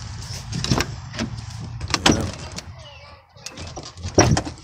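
The door of an old GM pickup truck being forced open with pliers: close metallic clunks, clicks and rattles in bursts, with a brief spoken word from a man partway through.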